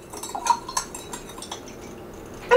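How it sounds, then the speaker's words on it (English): A lime and sugar drink being stirred in a glass, with a handful of light, close clinks of a spoon against glass in an uneven rhythm, fading near the end before one last sharp tap. "I'm just going to put a little sprig in there and give this a stir."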